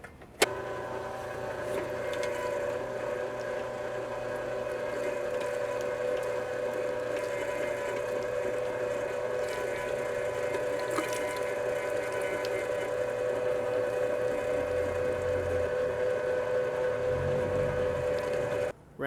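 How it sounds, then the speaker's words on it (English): An LEM Big Bite electric meat grinder runs bacon through a coarse 10 millimeter die for sausage, a steady motor hum with a tonal whine holding nearly constant throughout, close and alone. "Especially when I'm using this LEM Big Bite grinder, it grabs onto the ground meat really well."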